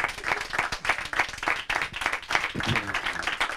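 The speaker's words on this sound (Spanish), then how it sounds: "Un fuerte aplauso de nuevo a esta pareja." Applause for a couple at the end of a Spanish show segment, dense clapping throughout with some voices mixed in, fairly close and steady for a few seconds.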